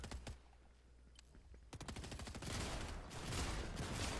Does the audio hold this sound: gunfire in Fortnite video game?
yes